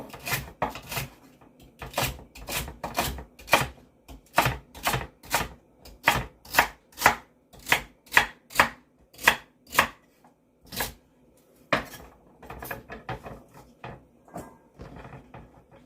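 A knife chops celery for chicken stock, striking a cutting board in a long string of crisp, evenly spaced chops, then pausing briefly before a quicker, looser burst.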